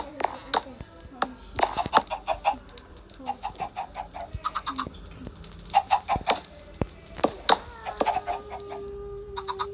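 Repeated short clucks from several video game chickens, bursts scattered throughout with brief gaps, fairly close and clear, with a faint voice in the background.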